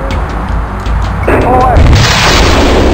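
A weapon fires in a jet combat flight game, a loud booming burst that swells and holds as a sustained roar over the second half, with faint radio-style voice chatter underneath.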